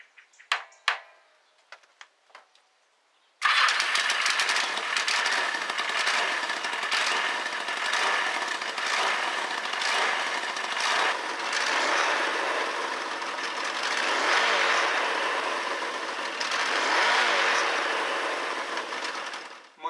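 A motorcycle engine being worked on for a cafe racer build gives a few sharp knocks and clanks, then starts and runs with a rough, loud, steady mechanical clatter that rises and falls slightly until it cuts off at the end.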